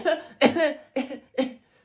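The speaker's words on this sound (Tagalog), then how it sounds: "May ubo kasi ako." Four short, breathy coughing bursts come in quick succession at close range, each a rough voiced hack with brief pauses between them.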